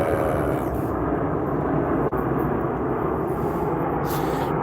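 A fixed-wing airplane passes over a city, its steady broad engine roar loud and continuous throughout, with no voices on top.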